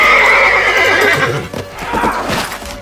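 Close and loud, a horse neighs in a long whinny while its hooves clop on the ground underneath.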